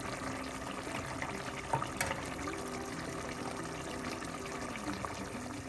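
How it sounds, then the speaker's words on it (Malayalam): Coconut oil pours over a spicy sole fish curry scattered with curry leaves, making a steady, close trickling stream that runs continuously for several seconds with no voices. "കുറച്ച് വെളിച്ചെണ്ണേൻ്റെ മുകളിൽ ഒഴിക്കും"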